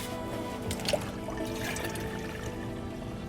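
Hot water pours steadily into a container to mix a rinseless car wash solution, a continuous quiet liquid splash with a faint gurgle, heard close with no talking.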